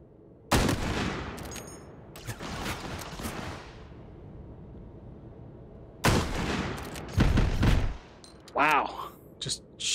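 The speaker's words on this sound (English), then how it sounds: "I love how it can shoot through walls." Gunfire in the VR video game Hot Dogs, Horseshoes & Hand Grenades, fired through walls: loud bursts of shots in two main volleys with a few scattered shots and a voice toward the end.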